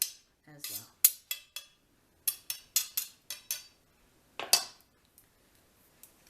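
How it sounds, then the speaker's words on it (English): A metal utensil scrapes garlic from inside an artichoke in a series of short, sharp clinks and scrapes, each one separated by a brief pause and heard close and clear. "And then I scrape all the garlic from the inside as well."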